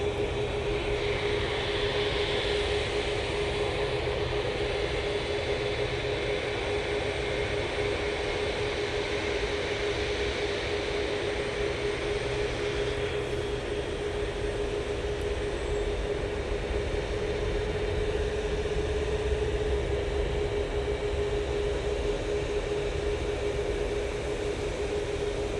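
A TUI airliner approaching Manchester Airport gives off a steady, broad jet roar with a sustained tonal whine, a constant distant rumble holding throughout without talk.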